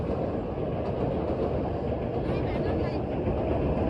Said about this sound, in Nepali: ऊ हेर ट्रेन पनि गयो